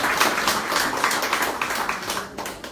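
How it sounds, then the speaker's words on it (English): An audience applauds after a talk at a Krakow business meetup held at an agricultural university, a steady patter of many hands clapping at moderate distance, with no voices over it. "So let's give her a big round of applause."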